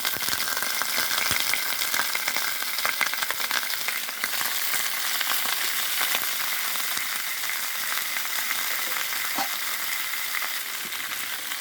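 Red leaves fry in hot mustard oil and are stirred, with a loud, steady crackling sizzle that fills the whole stretch close up, and a few faint utensil taps under it, with no talking.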